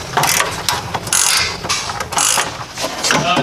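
A hand ratchet loosens 13 mm bolts holding a turbo bracket on a Fiat 500 Abarth, with repeated close, loud clicking pawl strokes in quick uneven bursts.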